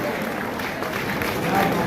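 An audience at a Hindi humorous poetry gathering claps in a thick, continuous wash of applause that swells slightly near the end, with speech mixed in.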